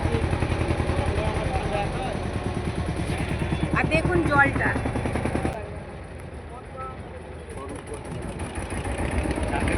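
A boat's engine chugging with a rapid, steady throb while crossing the Ganges, loud and close, dipping partway through and then building again, with a person talking over it.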